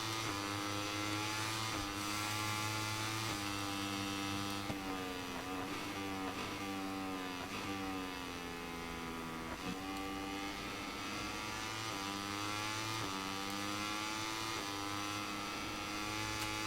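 A MotoGP 23 racing motorcycle on a wet track, its engine revving hard and continuously, rising and falling through gear changes with a steady high whine, loud and close for the whole stretch with no talk.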